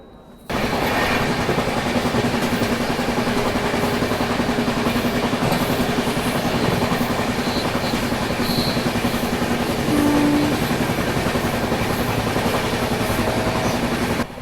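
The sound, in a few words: Maharashtra Sampark Kranti Express train running on rails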